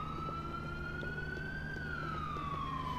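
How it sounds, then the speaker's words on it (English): Ambulance siren in the video game GTA 4, a steady electronic wail that slowly rises in pitch and then falls, continuous and prominent over a low rumble of street and engine noise. "Where's the ambulance? Sounds like it's coming from over here."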